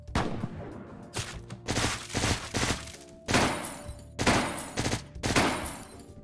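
Burst rifle fire in the top-down shooter Deadbolt, sharp clustered shots in rapid bursts separated by short gaps, loud and close, along with thuds and impacts.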